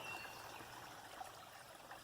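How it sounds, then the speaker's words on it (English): A creek beside a large sycamore tree in woodland, flowing in the background as a faint, steady trickling wash with no distinct events and no talking. "You should be able to hear the creek in the back."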